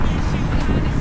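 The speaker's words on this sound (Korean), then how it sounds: "아, 바람 많이 불어." Strong gusts batter the microphone at Han River park in Banpo, a dense, loud, continuous roar of wind buffeting with no clear speech over it.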